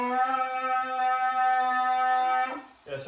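A student buzzes the lips as for a brass instrument, holding a steady, buzzy pitched tone for about two and a half seconds before it breaks off, with a short weaker buzz at the end.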